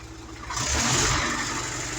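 A car engine with a fault where revs fall back with about a five-second delay roars up sharply, then holds a steady, loud hum after the throttle is released instead of settling quickly.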